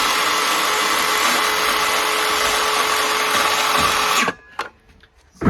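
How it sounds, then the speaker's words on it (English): A power saw blade cuts notches in wood for a Langstroth beehive, a loud, steady high whine that runs for several seconds and then stops abruptly, leaving a few faint knocks. "lift it up and down to cut little notches in"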